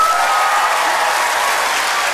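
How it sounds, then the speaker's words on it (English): A live audience at a mentalist's stage show applauds as a vote, producing a short, loud, continuous round of clapping that stays level throughout without any voices. "Applaud if you think it's in box number"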